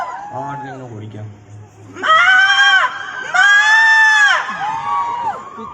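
A stage performer imitates a goat's bleat with his voice, producing loud, wavering cries in two long bursts after a lower opening call, with a crowd audible around it at a college show.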